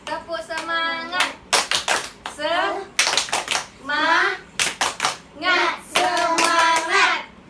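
A classroom of children in a microteaching lesson claps in quick rhythmic bursts while chanting together, each burst of claps alternating with their sung voices.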